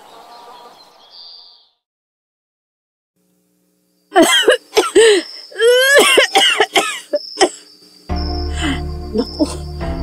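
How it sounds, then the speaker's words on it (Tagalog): A woman coughs in a series of harsh, close bursts with throat clearing, after a stretch of quiet, then a steady hum and faint chirps follow near the end. "Naku, bakit ako inuubo ng ganito?"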